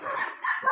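A dog barking in two short bursts, fairly close and clear.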